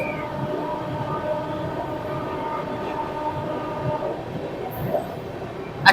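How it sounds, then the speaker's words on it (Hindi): Duronto Express train passing Mathura Junction at high speed, a steady loud rumble of wheels and carriages with a brief sharp squeal near the end. "अच्छी खासी स्पीड में जो है हमारी दुरंतो एक्सप्रेस मथुरा जंक्शन को स्किप करती है।"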